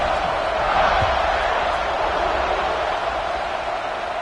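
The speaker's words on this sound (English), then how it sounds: "this crowd now ready to get behind them" Football stadium crowd before a kickoff, a broad steady roar of many voices filling the space at an even, loud level throughout.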